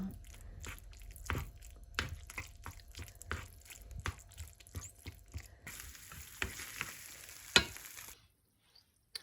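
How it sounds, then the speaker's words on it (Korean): Cream pasta with pesto stirred in a pan, heard as quiet, close, irregular wet clicks and scrapes of a utensil mixing the sauce, ending in near silence. "크림 파스타를 만들었고 여기 이제 페스토리 넣어서 섞어줍니다"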